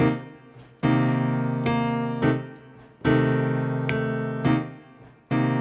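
Piano plays a simple beginner funk left-hand accompaniment of low sustained chords, struck in a steady rhythmic pattern with short pickup notes between them.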